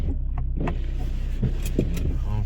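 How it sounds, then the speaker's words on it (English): BMW E46 windshield wipers running inside the parked car: a steady electric motor hum under repeated soft sweeping thumps, close and moderately loud. "Wipers work."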